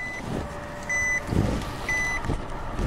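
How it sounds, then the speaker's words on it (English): Reversing beeps from a 2016 Nissan Note shifting into reverse on a hot day: a steady, evenly spaced series of high electronic tones sounding from inside the car over low engine hum and road noise. "Beeping. All Japanese cars seem to do that."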